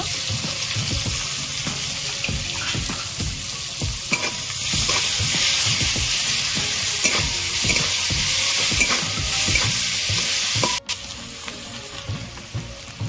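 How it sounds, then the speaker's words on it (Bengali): Chopped onion sizzles in leftover fish-frying oil with bay leaves and whole cumin, a loud continuous frying hiss broken by stirring scrapes throughout. "পেঁয়াজ কুচি দেব,"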